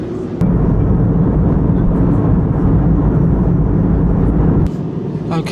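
Inside a Jet2 airliner cabin in flight over the Alps, a loud, steady engine and air roar fills the space with no break, then drops to a quieter hum near the end.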